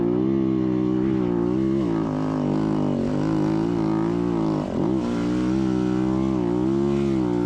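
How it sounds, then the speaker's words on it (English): An off-road vehicle engine climbing in third gear at nearly open throttle, holding a loud, steady, rich droning note close by, with a brief dip and recovery in pitch partway through. "We are third gear. Pretty much open throttle right now."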